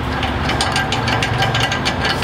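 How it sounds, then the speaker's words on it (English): A ratchet wrench turns steadily, tightening a nut onto a Unistrut channel nut, with rapid, close, continuous clicking from the pawl throughout. "you'll tighten your nut, and done"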